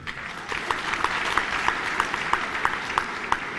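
Audience at a state teachers' event claps in steady applause, a dense bright patter with regularly spaced louder claps cutting through, fairly close and sustained throughout without speech.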